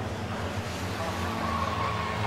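Citroen 2CV race cars lapping at Brands Hatch, a steady droning engine note held under race commentary throughout.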